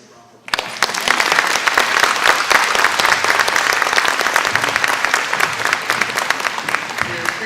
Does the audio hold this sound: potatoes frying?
no